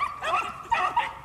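Dog vocalizing during a rabbit hunt with guns, a few short yips and barks in quick succession, fairly close and moderately loud, with no clear talk over it.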